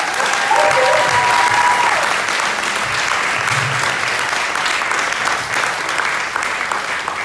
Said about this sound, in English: a big round of applause for Chinese House